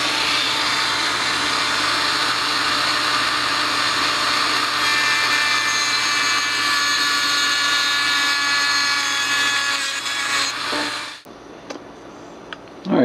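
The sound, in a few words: Dremel rotary tool cutting a circuit board in half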